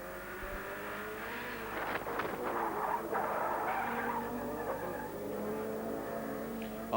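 Production saloon cars from the 1990 British championship launch off the start line together, a dense continuous roar of engines with tyre noise and revving, loud and steady throughout with no talk.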